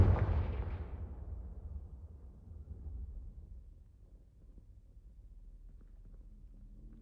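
A Confringo blasting spell goes off in a Harry Potter video game, a loud booming explosion at the start that rolls off into a long, low rumbling tail.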